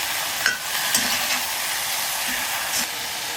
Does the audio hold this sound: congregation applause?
no